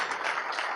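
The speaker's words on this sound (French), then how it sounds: "On va remercier Michel Gourtet par quelques applaudissements" Audience applause at the inauguration of a Microsoft AI school event, a steady dense wash of clapping filling the short moment with even loudness and no pauses.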